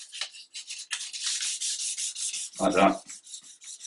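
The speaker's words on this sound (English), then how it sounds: "this sandpaper's that fine, it's actually making your wood shine already a little bit" Fine sandpaper rubs by hand over a wooden gun stock being refinished, a soft rhythmic scratching of repeated strokes with one heavier, fuller stroke near the end; a voice speaks briefly.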